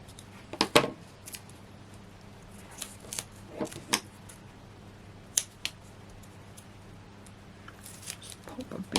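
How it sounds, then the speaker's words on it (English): Scissors snip through paper and card at a crafting table in a few quick, quiet cuts, mixed with the soft rustle and clicks of handling materials in a hushed room. "Use my scissors, there they be."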